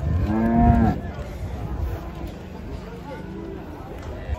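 A cow lets out a loud, low moo near the start, followed by fainter lowing amid background chatter and murmured voices.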